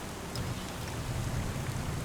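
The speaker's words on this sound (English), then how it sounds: "Let's run through the rain. Let's get out of the rain." Steady rain in the Farming Simulator 25 video game, a dense even hiss of falling drops heard alone and fairly faint throughout.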